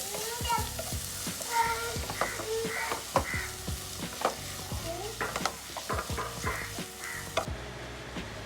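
Meat masala sizzling in a pan for a chicken bread roll filling, stirred with repeated scrapes of a spoon over a steady frying hiss; faint crow caws sound in the background.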